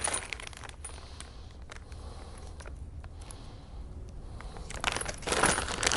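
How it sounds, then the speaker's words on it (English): Metal keys for a ZT8 zero-turn scooter clink and jangle as they come out of the owner's manual package, with scattered close, light metallic taps and a louder rustle of handling near the end. "I'm going to get the keys out."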